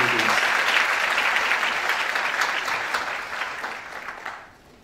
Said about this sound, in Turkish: Büyük alkışlarla kendisini davet ediyoruz.